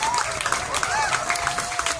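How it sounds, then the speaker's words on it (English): At a family celebration after a shower of flowers, a crowd applauds with steady dense clapping, mixed with cheering voices and whistles above it. "How about a nice big round of applause for Cousin Kavika?"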